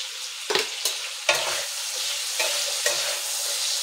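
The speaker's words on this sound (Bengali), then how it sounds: "আলুটা ভাজা ভাজা হবে।" Potatoes fry in mustard oil with black cumin, turmeric and salt, a steady sizzle broken by several sharp scrapes and clatters of a spatula stirring the pan.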